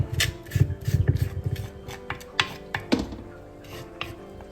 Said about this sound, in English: Using a spoon, combine well.